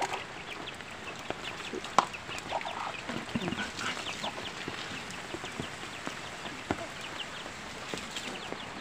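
Soft, scattered clucking from a hen with small high peeps from her chicks in a quiet outdoor setting, faint and fairly distant, with occasional sharp knocks.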